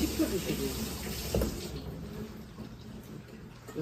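Cold tap water runs over blanched vegetables for tangpyeongchae, a steady splashing wash that is loudest in the first second and a half, then thins to a softer trickle.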